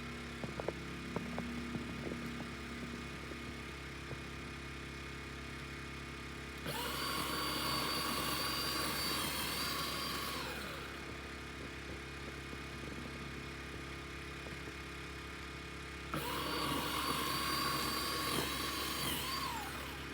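A Snow Joe electric powered snow shovel clearing snow whirs steadily in two loud running stretches, with a quieter motor hum in between.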